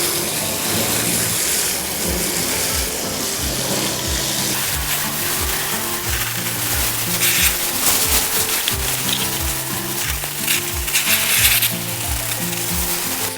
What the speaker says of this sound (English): We'll give that a water in now.